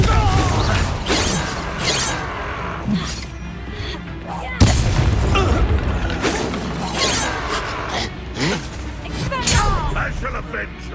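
Explosive blasting-spell bursts and booms from Hogwarts Legacy combat repeat in quick succession, fairly loud and close, mixed with clanking mechanical effects while voices talk over the fight.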